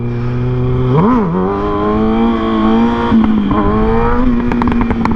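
A 600cc motorcycle engine revs loud and close during a wheelie, its pitch climbing sharply, wavering, then settling into a steady drone as the throttle eases into engine braking, with no talk.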